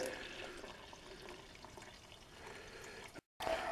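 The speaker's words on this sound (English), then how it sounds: "I'm gonna pour about half of it in here and filter it." A chemical solution, prepared while testing tuna for mercury, is poured into a filter, giving a steady close trickling and splashing that runs for a few seconds before a brief break and a resumed pour.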